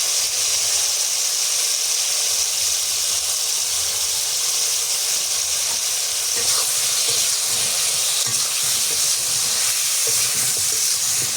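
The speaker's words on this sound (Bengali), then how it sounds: "দিয়ে দিই আলু, হলুদের গুঁড়ো দিয়ে দিই এখন।" Potatoes and turmeric powder frying in oil in a pan, a loud, steady, hissing sizzle that fills the whole stretch with faint stirring noises and no talk.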